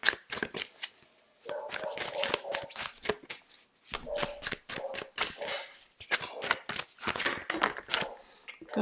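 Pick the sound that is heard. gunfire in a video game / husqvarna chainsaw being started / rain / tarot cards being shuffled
tarot cards being shuffled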